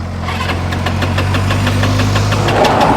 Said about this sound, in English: the engine just sputters. The engine isn't working. It just sputters there and it doesn't load.